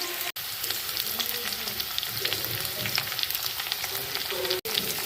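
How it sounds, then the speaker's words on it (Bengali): Long-cut potato pieces fry in mustard oil with cumin seeds, giving a steady, fairly loud crackling sizzle throughout with no voice, broken only by two brief sharp dropouts. "লম্বা করে কাটা আলু দিয়ে দিলাম। আগে একটু আলুগুলো ভেজে নেব"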